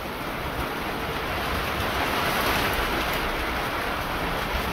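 First rain of the season falling steadily on open ground, a dense, even hiss that holds for the whole stretch with no voices.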